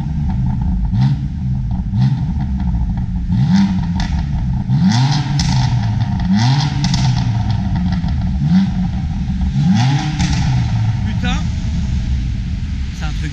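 A BMW M4 engine revs and accelerates hard from close by, its loud, steady roar rising and falling in repeated surges, with people talking over it.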